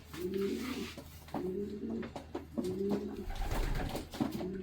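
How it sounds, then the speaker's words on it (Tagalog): A racing pigeon coos in repeated low, rolling phrases, close and steady, with a few soft rustles and bumps between the coos. "itong ibon na to, ay papadala natin sa Big Andy din."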